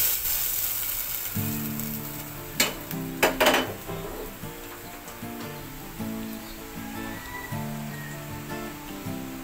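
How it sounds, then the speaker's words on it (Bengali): A fried katla fish head dropped into a pot of mung dal makes a few sharp knocks and a brief clatter near the middle, over a steady low background with faint sizzling. "এখন আমি এই ভাজা মাছের মাথাটাকে এই মুগ ডালের সঙ্গে দিয়ে দিচ্ছি।"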